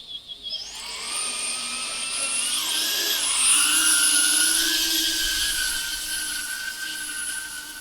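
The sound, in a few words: 2.5 inch FPV drone flying, whistling motors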